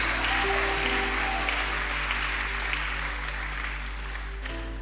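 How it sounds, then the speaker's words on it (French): A church congregation applauds during a French-language sermon, producing a continuous wash of clapping over a low steady hum that eases slightly toward the end. "Applaudis le Seigneur."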